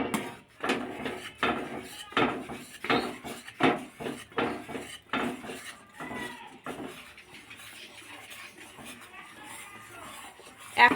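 A spoon scrapes and taps around a bowl while stirring a powdered milk mixture for rasmalai, in short repeated strokes that fade into quieter, softer stirring.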